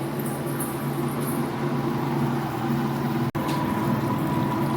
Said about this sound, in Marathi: कूलर चालू करतो. ओयू, काय आवाज मारायला लागले.